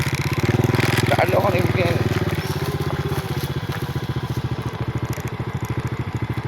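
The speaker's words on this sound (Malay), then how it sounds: "Ada motor ni." A motorcycle engine thrums with a steady pulsing putter close by, fairly loud and constant throughout, while someone talks over it.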